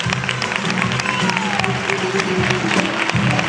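Applause at a flamenco concert in the Auditorio Villa de Salobreña, greeting the guitarist. A full, continuous clapping from the hall lasts a few seconds, with some crowd noise mixed in.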